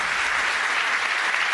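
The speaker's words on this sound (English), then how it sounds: "Please give them a round of applause on our last show." A full studio audience claps hard and evenly on a game-show finale, a dense, close wash of applause that runs unbroken through the short stretch without voices.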